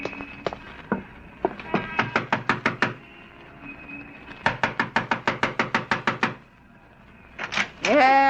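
Sharp knocking on a door in a radio drama sounds in two long rapid series of loud close raps, with a short voiced sound at the end.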